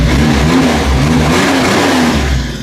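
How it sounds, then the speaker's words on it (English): A Mitsubishi U42T kei truck engine revs steadily on a cold start after days of sitting, a loud, close buzzing drone that holds throughout and tapers slightly at the end. "It's a snappy little engine."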